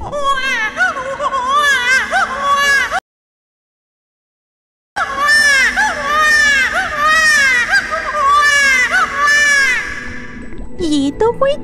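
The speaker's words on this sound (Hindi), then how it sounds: "ये तो कोई छोटी बच्ची की रोने की आवाज लग रही है।" A little girl cries at night by a riverbank, high wailing sobs in close, loud bursts, broken by a short silence and then resuming in rising, trembling whimpers.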